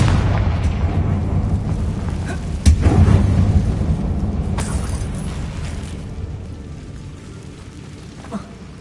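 Confringo fire-spell blasts from the Hogwarts Legacy video game rumble through a goblin mine, a steady low roar broken by a couple of sharp booming impacts, loud and close throughout.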